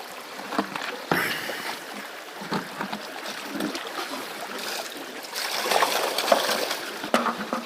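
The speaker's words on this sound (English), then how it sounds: "I'll just wash down the material that might be just left in the sluice box." Water rinses leftover material down a gold sluice box with a Dream Mat beside a river in Wicklow. Splashing and sloshing stay close, in uneven surges over a soft, steady flowing-water background.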